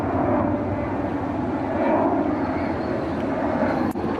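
An airplane flying overhead near Edinburgh Airport, heard outdoors from a coastal trail: a steady, fairly loud broadband engine roar that holds throughout with no talk.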